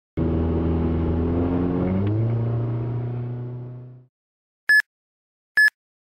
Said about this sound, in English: Hey, look, a car!